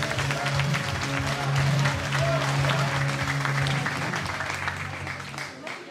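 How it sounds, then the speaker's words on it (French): Audience applause at a fashion show event, dense sustained clapping from a large crowd with some voices mixed in, fading off toward the end. "Applaudissements, s'il vous plaît."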